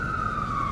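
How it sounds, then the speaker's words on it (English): A police siren wails on a city street, a loud, steady electronic tone holding a single pitch over low traffic rumble for a brief moment, with no talking. "There's an alarm going, police siren."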